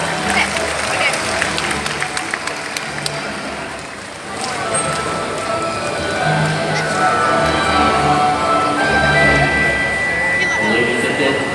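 Audience applause after an owl and bird-of-prey flight show at Bird Paradise in Singapore, a broad clapping crowd under a presenter's voice over an outdoor amphitheater.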